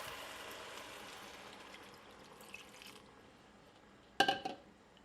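Water or stock pours into a pot of vegetable stew with squash and carrots, a soft, sustained liquid rush that fades, followed by a short, sharp clatter near the end.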